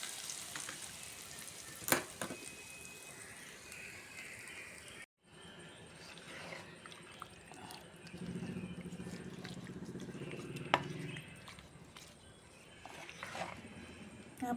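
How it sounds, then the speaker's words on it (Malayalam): Boiled sesame oil is poured over cut mango pickle and sizzles: a soft, steady frying hiss under a brief pause, with a low rumble and a few sharp clicks mixed in nearby. "നമ്മുടെ തിളപ്പിച്ച നല്ലെണ്ണ ഇതിലേക്ക് ഒഴിച്ച് കൊടുക്കുക"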